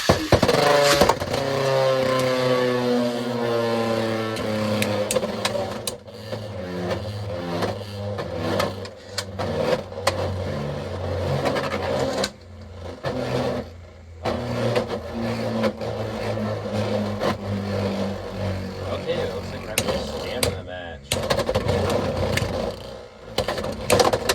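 Beyblade X tops battling in a stadium: a high, whirring spin that rises and falls, broken by sharp metallic clashes and rattles as the tops collide, loud and close with no speech.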